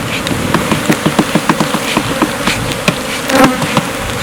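Honey bees buzz around an open hive during an inspection, a loud, close swarm drone broken by frequent short pulses and passes of individual bees.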